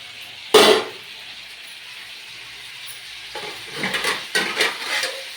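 Eggplant pieces are stirred in hot oil with salt in a home kitchen pan, giving a sharp scrape early on, then a quiet stretch before a run of soft sizzling, stirring scrapes near the end.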